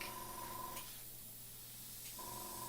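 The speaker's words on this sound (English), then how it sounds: "if I want air to come out, I press down, and if I want paint to come out, I press back" An airbrush fed by a compressor sprays air in a soft, steady hiss, close and quiet, with a constant tonal hum from the compressor that briefly drops away in the middle.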